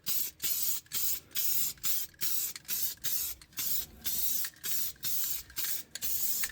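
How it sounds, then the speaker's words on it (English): An aerosol spray can applied to Jeep JL grill trim in light first-coat passes, about a dozen short, even bursts of loud, close hiss separated by brief gaps. "I gave it a test spray. Looks like it's working, so we're going to get a first coat on here."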